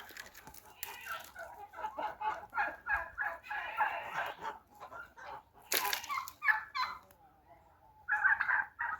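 Chickens cluck and chatter nearby, a busy flock making repeated clucking calls with occasional sharper squawks and rustling.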